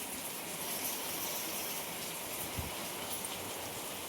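A steady downpour of rain patters densely and evenly nearby, with water gushing under it and a single dull thump partway through; no one speaks.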